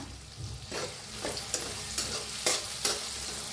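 Chopped tomato and eggplant with red chili powder are stirred and fried in a pan, giving a steady soft sizzle broken by repeated scraping stirs of a spoon, close and fairly quiet, with no talk.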